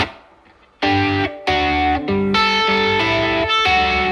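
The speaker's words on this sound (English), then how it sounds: "So I just added the reverb in from the Galaxy and the Dream" An electric guitar played through a Warm Audio Centavo overdrive pedal with Galaxy and Dream reverb rings out in a few strummed chords and held notes, driven and lush, each chord swelling and sustaining into a wide reverberant tail.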